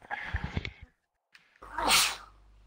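A single loud, close sneeze bursts out after a brief pause, following a stretch of muffled talk during a live game stream.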